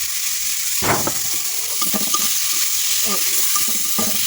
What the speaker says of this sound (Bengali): মাছটি দিয়ে দিলাম